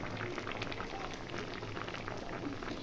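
Drumsticks (sajne data) boiling in a covered pot, a soft, continuous bubbling simmer heard faintly and up close, with no talk.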